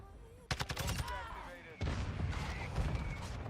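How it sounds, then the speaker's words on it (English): Mortar strike explosions in Modern Warfare 2 gameplay, a burst of sharp repeated blasts followed by a heavier, sustained rumbling barrage, loud and close. "Mortar strike."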